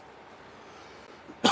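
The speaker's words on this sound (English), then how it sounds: "Still have a bit of a cough." One abrupt, loud cough from a person with a lingering chest cough breaks out at the very end after near silence with a soft background hiss.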